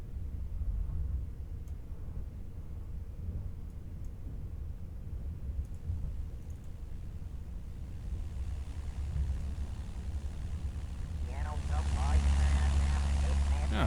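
Propeller plane engine in Kerbal Space Program, a steady low drone that swells louder toward the end, with a speaking voice over it.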